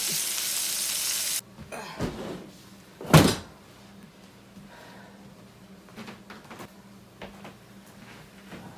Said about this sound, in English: We're frying up some pork chops.